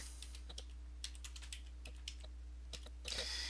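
Light, irregular keystrokes on a computer keyboard sound close and faint over a steady low electrical hum, with a slightly louder burst of keys at the end.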